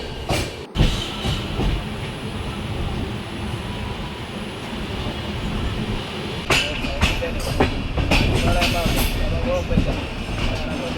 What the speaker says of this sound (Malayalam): ട്രെയിൻ ഇപ്പോൾ ഹരിപ്പാട് സ്റ്റേഷനിലോട്ടാണ് എത്തിക്കൊണ്ടിരിക്കുന്നത്